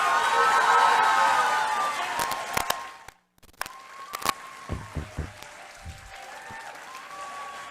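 Clapping and cheering from the audience at a CVUSD school board meeting after a public comment, loud at first, then dying away into a brief silence, followed by scattered thumps and a few last claps, with a voice coming in near the end.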